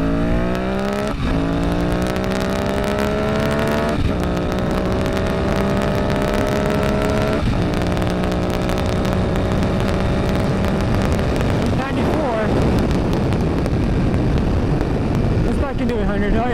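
A motorcycle accelerates at high speed in fifth gear on an open road, passing a truck. Its engine whine climbs repeatedly, with short dips at each shift, under heavy wind roar.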